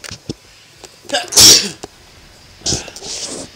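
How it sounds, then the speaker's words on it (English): A single loud, close sneeze bursts out after a quick inhale, followed by faint rustling and a softer breathy noise. "I sneezed."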